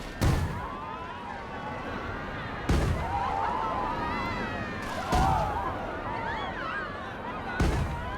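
Cannon fire in the Planet Coaster 2 theme park game: four loud booming blasts spaced a few seconds apart, each followed by a ringing tail, over a steady bed of background game sound and faint voices.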